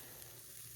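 Food sears in a hot pan on a Samsung induction range, a steady, even sizzle with a broadband hiss that holds without break through the short stretch, alone with no talk.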